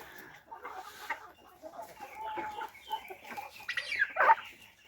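Chickens cluck in a farmyard, a scattered run of soft clucks and calls at moderate distance that grows busier and louder toward the end.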